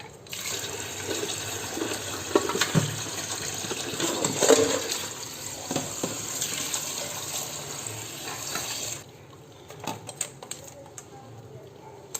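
Tap water runs steadily into a sink while crabs are washed at home, a continuous splashing stream with small clatters before it shuts off, leaving quieter handling sounds.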